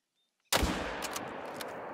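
A single rifle shot rings out in TheHunter: Call of the Wild during long-range hunting, an abrupt loud crack after brief silence that trails off into a long rolling echo.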